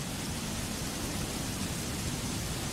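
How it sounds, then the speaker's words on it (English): Steady, dense rain hiss in the video game Nostos, an even wash of noise with no breaks or distinct drops, heard alone without talk. "I hear rain."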